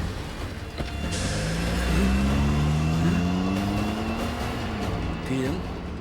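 A car engine drones past, rising and slightly shifting in pitch as it accelerates, close and fairly loud, with a brief higher whine near the start and no speech.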